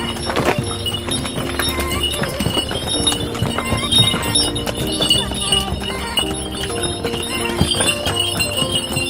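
Donkey hooves clip-clop steadily on stone paths in Santorini, Greece, amid a busy outdoor mix of bells and murmuring voices, the hoofbeats close and continuous throughout.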